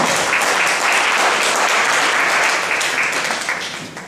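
A quiz audience applauds a correct answer, a loud, full wash of continuous clapping that stays dense throughout and eases slightly near the end.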